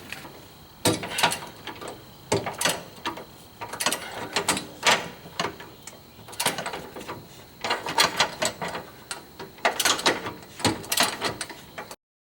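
A wrench loosens a bolt on a Jeep, producing a string of close ratcheting clicks and metallic clanks in irregular bursts with brief gaps between them.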